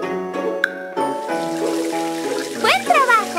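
Water rinsing soap bubbles off a puppy in a Strawberry Shortcake bath game, light trickling and pouring with chiming tones and a rising sweep, layered over cheerful game music.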